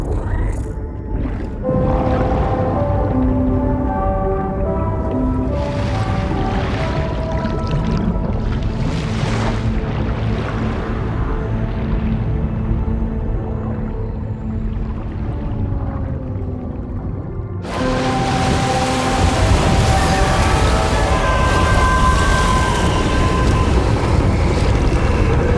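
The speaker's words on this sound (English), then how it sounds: "Discharging tar ballast tanks. DHV Magellan surfacing." The DHV Magellan ship surfacing and discharging tar ballast tanks in the video game Death Stranding 2, a deep, low whale-like groaning over rushing water and wind, swelling into a louder, roaring surge about two-thirds through.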